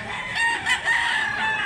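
Roosters crow at a busy rooster market in Mantalungon, Barili, Cebu, a single drawn-out crow rising up close over a dense wash of other birds.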